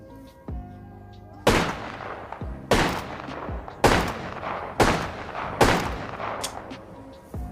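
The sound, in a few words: JAKKS Pacific Wingman toy pistol shooting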